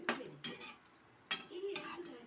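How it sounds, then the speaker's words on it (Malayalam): Cooked green peas being mixed into a curry in a pan, a few metal spoon scrapes and clinks against the pan in short bursts with a quiet gap between, soft and close. "ഇനി നമ്മൾ വേവിച്ച് വെച്ച ഗ്രീൻ പീസ് ചേർത്ത് കൊടുക്കുക ഇതിലേക്ക് നല്ലപോലെ ഒന്ന് മിക്സ് ചെയ്ത് കൊടുക്കുക"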